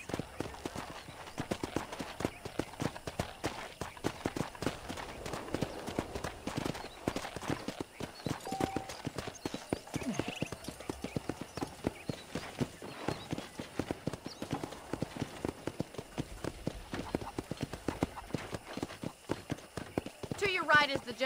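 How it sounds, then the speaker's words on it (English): Horse hoofbeats clip-clop steadily in Red Dead Redemption as a rider tours a ranch, a continuous rhythmic trot under ongoing talk, with a brief whinny-like sound near the end. "let's see if you can still ride a horse"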